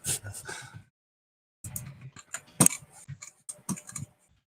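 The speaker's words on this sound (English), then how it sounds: "Sorry for the typing noise" Rapid typing on a computer keyboard, bursts of close, crisp key clicks separated by short pauses, with one louder sharp tap partway through and no talk.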